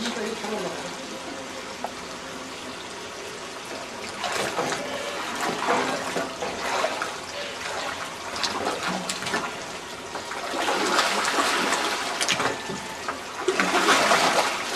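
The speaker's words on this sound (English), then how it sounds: "They have to mix the dye thoroughly in the water, and the water itself is lukewarm now" Dye is stirred into lukewarm water in a pot while making Tibetan rugs in light indigo, giving steady sloshing and splashing water that swells louder in bursts near the end, with voices talking in the background.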